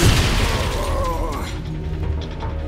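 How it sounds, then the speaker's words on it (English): A loud, low explosion rumble in the video game X-Men Origins: Wolverine opens and decays over a couple of seconds, followed by faint mechanical rattling. "Did anybody hear the explosion?"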